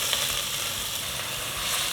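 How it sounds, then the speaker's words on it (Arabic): Garlic and chopped coriander fry in vegetable oil in a pot, giving a loud, close, steady hissing sizzle with no pauses. "بطنجرة تانية رح احط زيت النباتي وضيف عليهم الثوم والكزبرة المفرومة وقلبهم مع بعض."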